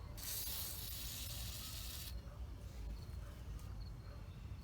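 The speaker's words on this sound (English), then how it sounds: "Spray some WD-40 on it." A close, hissing aerosol spray of WD-40 penetrating oil onto a stud on a 2000 Ford Ranger bursts for about two seconds, then stops, leaving a low background rumble.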